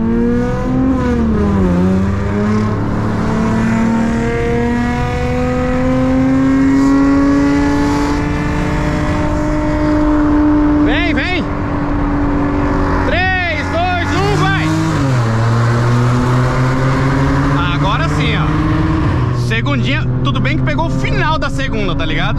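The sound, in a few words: VW Up TSI car accelerating in second gear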